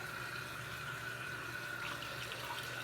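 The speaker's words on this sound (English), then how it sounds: "let me wash this off with some cold water" Cold tap water runs steadily from a faucet into a sink while someone rinses shaving lather off their face, making a continuous, even splashing hiss with no voices.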